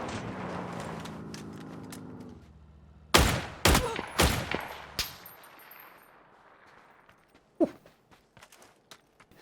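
Dragunov DMR rifle shots ring out in PUBG on the Miramar desert map, four or five loud, sharp cracks in quick succession, then one more isolated shot, with faint footsteps and rustling between them.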